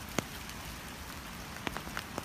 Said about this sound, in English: Here's the rain finally that they were forecasting all week